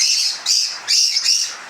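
A lovebird chick calls in a run of shrill, raspy chirps, three or four pulsing bursts close to the microphone, loud and alone with no talking.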